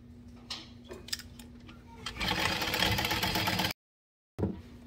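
A sewing machine runs a seam in a short, close burst of whirring stitching lasting under two seconds, preceded by a few clicks and faint background hum, then cut off by silence.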